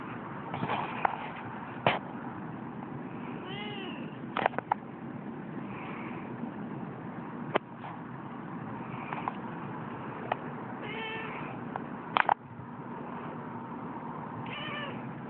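A seal point Siamese cat meows repeatedly, close and fairly loud, in short calls spread across the whole stretch with brief gaps between them, over a low steady background hum.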